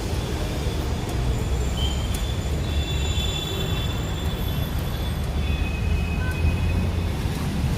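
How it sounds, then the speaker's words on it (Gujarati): An Ahmedabad metro train runs along, heard from on board. A loud, steady rumble of wheels on rails continues throughout, with faint high squeals from the wheels. "ભાઈ મેટ્રો એટલે મેટ્રો ભાગી"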